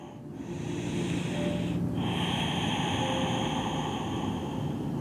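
Deep, even breathing during a beginner yoga session, a steady breathy rush that runs almost the whole five seconds with one slower inhale-exhale cycle, close and fairly loud with no talking.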